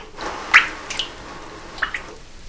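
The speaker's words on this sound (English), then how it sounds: "I'm going to blow air across the water and move it with my hand." A hand moves through a tub of water while air is blown across it, making a few soft splashes and drips at close range, separated by quiet pauses.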